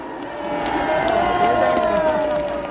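A large crowd at an outdoor political rally for the March 1st Independence Movement Day cheers and claps, with shouting voices rising over a continuous roar.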